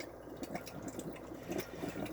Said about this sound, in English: Well, that's just finishing off filling there.